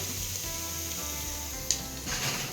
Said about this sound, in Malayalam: വെളിച്ചെണ്ണ ഒഴിച്ചു കൊടുത്തു സവാളയൊക്കെ ഇട്ട് വഴറ്റാനായിട്ട് വെച്ചു